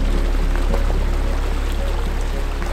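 A brook flows beside a hiking path in the Paulinen Grund near Jetřichovice on a snowy day, a close, steady rushing of water with a low, constant rumble beneath it.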